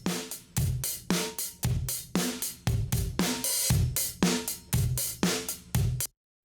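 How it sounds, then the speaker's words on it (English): A parallel-compressed drum kit bus through a UA 1176 compressor plays a steady groove of punchy kicks and snares with thick, pumping cymbal wash, loud and dense, then stops abruptly. "if we have a listen to that parallel compressed drum bus on its own, it sounds like this"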